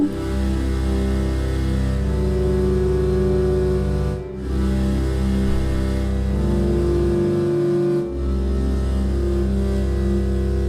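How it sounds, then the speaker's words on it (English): An Ondes Martenot plays a dense, sustained electronic tone with a rich low end and a steady drone, held for several seconds and pausing briefly twice, loud and close with no talking. "It's called the Ondes Martineau."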